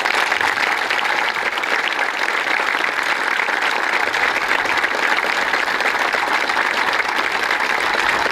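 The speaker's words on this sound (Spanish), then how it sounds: "Por eso pido un aplauso para la familia." Sustained audience applause for a family at a government event, steady and dense from start to end with no talk over it.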